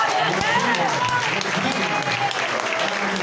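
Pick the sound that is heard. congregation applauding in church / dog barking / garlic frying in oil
congregation applauding in church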